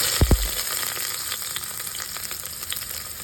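Whole spices frying in hot oil for biryani, a constant close crackling sizzle opening with a couple of quick knocks against the pan, with no voices.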